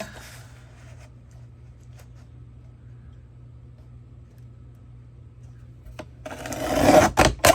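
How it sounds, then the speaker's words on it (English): A paper trimmer slices through journal pages with one short, scraping rasp near the end, after a long stretch of quiet room hum. "Let's just go back to the trimmer."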